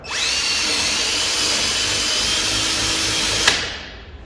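A power drill bores open a bolt hole on a Yamaha SuperJet during a rear sponson install, a steady high motor whine holding for several seconds before cutting off and spinning down.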